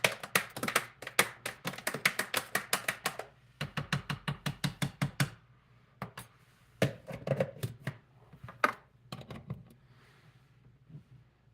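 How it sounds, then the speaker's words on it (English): A spoon stirring a thick smoothie in a bowl makes rapid, close knocking and scraping taps in quick runs, then slower scattered clicks trailing off into quiet. "Give this a stir."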